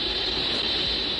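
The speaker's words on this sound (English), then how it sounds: "the horn antenna they're using picks up constant interference" Steady, even hiss of broadband static picked up by a radio telescope's horn antenna, constant and unbroken throughout, with a bright edge on top.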